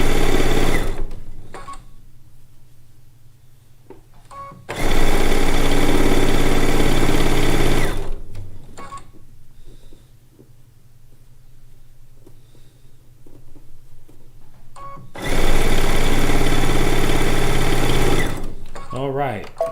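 A sewing machine joins quilt blocks in two loud, sustained runs separated by quieter pauses, heard close up with a person talking in the gaps.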